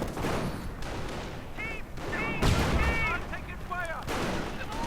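Tank and anti-tank gun fire in a World War II video game with Sherman and Churchill tanks: heavy booming shots crack out, with whistling shell sounds and a voice talking in the background.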